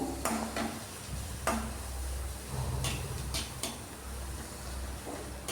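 Onions and tomatoes sauté in oil in a pan for tomato chutney. A steady low sizzle runs under intermittent spoon scrapes and stirring taps, close and moderately quiet, with no talking.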